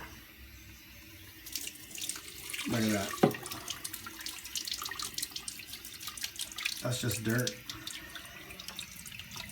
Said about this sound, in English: So I'm going to put our water hose in there.